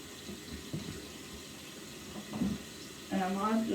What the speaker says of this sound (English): run my faucet. I want to make sure the water's going to get warm enough.